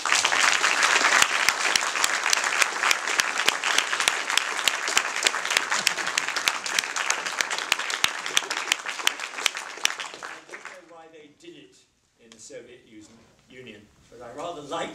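An audience applauds after a philosophy talk on effective altruism, loud sustained clapping for about ten seconds that stops abruptly, followed by a person talking.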